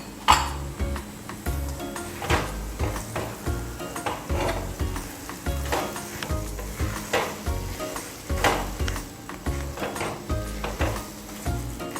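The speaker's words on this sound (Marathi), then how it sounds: "आता हे सर्व मिश्रण मी या हलव्यामध्ये टाकून देते आणि छान मिक्स करून घेते." Roasted cashews are stirred into carrot halwa in a pan, with a spoon repeatedly scraping and knocking against the metal in a steady rhythm under a faint sizzle, close and continuous for about twelve seconds.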